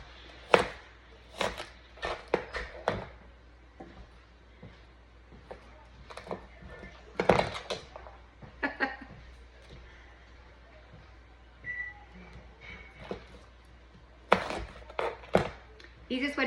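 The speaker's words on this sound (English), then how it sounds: "I am gonna chop up my onions, not too fine" A knife chopping onions on a cutting board, sharp irregular thuds in short bursts with pauses between, close and clear, while a person talks at intervals.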